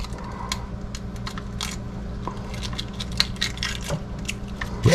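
Eggs cracking in a kitchen where turkey bacon, eggs and mushrooms are being cooked, heard as scattered sharp crackles and clicks over a steady low background hum, close and fairly quiet.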